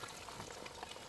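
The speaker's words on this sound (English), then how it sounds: "So we are deep frying all these vegetables." Vegetables deep frying in a lot of oil for Ghanaian shito chili sauce, a steady dense sizzle and crackle that runs without a break for the whole short stretch, close and even in level.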